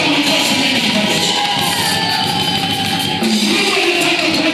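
A church crowd at a sermon roars with loud, continuous cheering, whooping and shouting, a dense, close wall of voices that may include clapping and never lets up.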